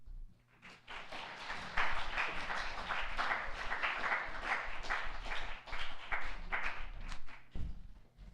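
A school morning assembly audience breaks into applause, rising quickly from quiet into a dense, sustained clatter of many hands, then thinning toward the end with a few scattered claps.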